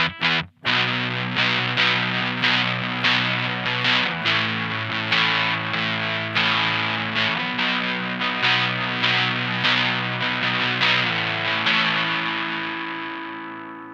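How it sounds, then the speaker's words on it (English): Electric guitar played through a RonSound '75 Hairpie Classic fuzz pedal with the guitar volume rolled back to about halfway: strummed chords and riffs with a mildly gritty, fairly clean fuzz tone that ring out and fade at the end. "And as far as fuzz sounds go, it's somewhat clean."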